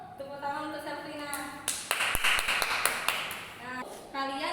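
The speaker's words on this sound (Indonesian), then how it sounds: "Tepuk tangan untuk Selfina." Brief classroom applause for a student, a burst of scattered children's clapping in the middle, framed by a teacher's speech before and after it.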